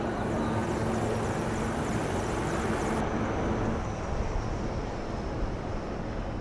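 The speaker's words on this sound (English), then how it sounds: "two Apache helicopters and two advanced light helicopters, Mark IV aircraft in echelon." Two Apache helicopters and two Mark IV advanced light helicopters pass overhead in echelon during a Republic Day fly-past, a loud, continuous rotor and engine roar that stays steady throughout with no talk.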